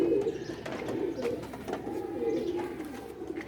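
Pigeons cooing nearby on a rooftop loft, soft repeated throaty coos over a low background hum, steady and close throughout.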